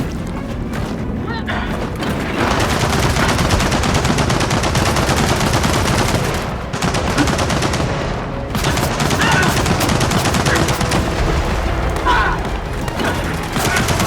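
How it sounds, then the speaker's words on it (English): Sustained machine gun fire in the Gears of War video game, loud and nearly continuous bursts with booming impacts and crashes layered throughout, briefly easing before roaring on again. "Machine gun nest!"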